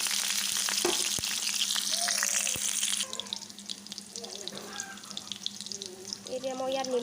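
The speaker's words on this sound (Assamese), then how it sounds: "তেল গৰম হৈ গ'ল, মই ইয়াত দিছোঁ পিঁয়াজ এটা, কেঁচা জলকীয়া এটা আৰু কেইফুটমান নহৰু।" Onion, green chili and garlic fry in hot oil, a loud broadband sizzle that hisses steadily for three seconds, then drops to a softer crackle with scattered pops and stirring clatter, with faint voice-like tones near the end.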